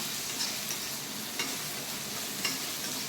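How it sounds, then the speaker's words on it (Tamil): A steady hiss of ingredients dry-roasting in a hot pan for sabudana khichdi, with occasional soft scrapes and taps of a spatula, close and alone with no talking. "நல்லா இது மாதிரி வறுத்துக்கோங்க"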